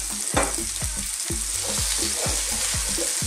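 Broccoli florets and chunky zucchini pieces sizzle in a hot pan, a steady hiss broken by repeated scraping stirs in a loose rhythm.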